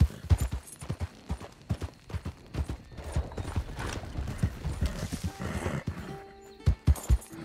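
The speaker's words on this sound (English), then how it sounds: "That's an impressive jumping horse, is that?" A horse in Red Dead Redemption 2 gallops and jumps, its hooves beating out quick, close clip-clops in uneven bursts, with a short whinny and some mechanical clatter toward the end.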